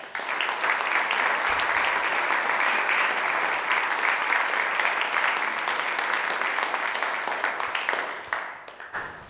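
An audience at a public meeting gives representatives a sustained round of applause, steady dense clapping from a room of people that holds level and then tapers off near the end.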